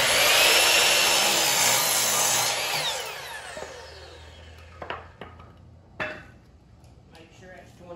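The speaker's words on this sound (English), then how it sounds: "we're gonna cut 21 inch braces for the middle" Power saw whining loudly through wooden braces for about three seconds, the pitch falling as it spins down, followed by scattered knocks and clunks of wood being handled.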